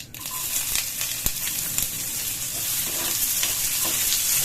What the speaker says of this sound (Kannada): ಕಡಾಯಿಗೆ ಎಣ್ಣೆ ಹಾಕೊಂಡ್ಬಿಡ್ತೀನಿ. ಸಾಸಿವೆ, ಜೀರಿಗೆ, ಈರುಳ್ಳಿ